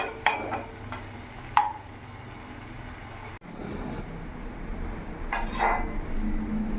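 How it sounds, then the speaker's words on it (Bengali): Masala spices are stirred and fried in a pan for a silver carp curry with potato and cauliflower, a soft continuous sizzle with a few sharp scraping clinks of a spoon. "ভালো করে নাড়াচাড়া দিয়ে আমি কিছুক্ষণ মশলাটাকে একটু কষিয়ে নেবো যাতে কাঁচা গন্ধটা আমার চলে যায়"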